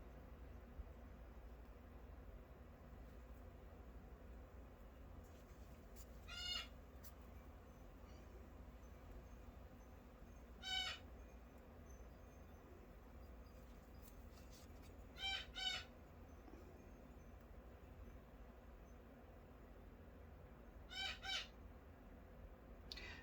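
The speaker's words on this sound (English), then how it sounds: "that's just my bird. I have a cockatoo, and sometimes they get quite noisy" A loud, harsh cockatoo screech repeats every few seconds against a quiet hiss, each call short and grating, heard from a moderate distance indoors.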